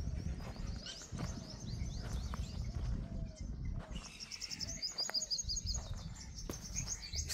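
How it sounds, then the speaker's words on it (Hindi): Various birds call and chirp in the Thar desert during a spell of intense heat, several high, quick tweets and trills overlapping near and far above a steady low rumble of background noise. "अलग अलग पक्षियों की टोन आ रही है।"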